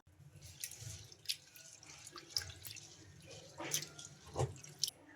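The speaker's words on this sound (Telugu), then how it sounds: "ఈ పెసరపప్పును ఒక రెండు సార్లు శుభ్రంగా వాష్ చేసుకుందాం" Moong dal being washed in a bowl of water, with soft, close sloshes and little drips that come in quiet bursts and no one speaking.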